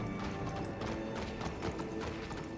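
Horse hooves clip-clop in a steady, fairly quick rhythm in Elden Ring, with faint mechanical clanking mixed underneath and no talking.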